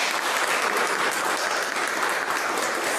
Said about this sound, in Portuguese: Então agora eu queria que você aplaudisse Jesus